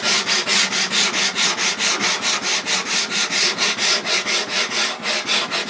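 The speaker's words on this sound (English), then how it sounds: "I'm just going to follow up with a card scraper and then sandpaper behind that" A card scraper and sandpaper work the surface of a wooden cupboard door in quick, steady back-and-forth strokes, a rhythmic rasping scrape repeating about four times a second, close and alone.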